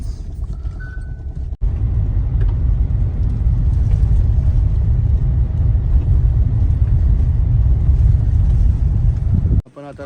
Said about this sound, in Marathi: पण आता गाडी पायथ्याशी घेऊन चाललेलो आहे